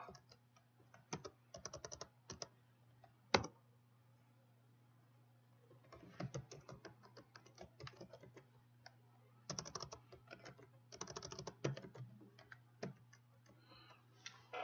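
Code being typed on a computer keyboard, quiet bursts of rapid key clicks separated by pauses, with a single sharper tap partway through and a faint steady hum underneath.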